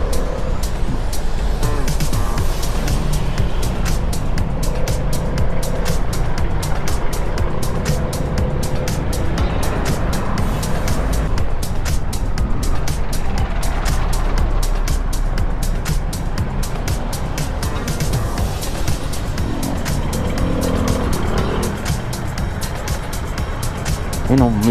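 A 2024 Vespa S 125 scooter rides through traffic and squeezes past other vehicles, giving a constant low engine and road rumble with wind buffeting throughout while a rider's voice talks over it.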